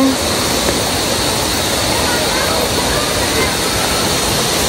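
A waterfall roars as a steady, dense rush of water, loud and close, with no breaks across the whole stretch.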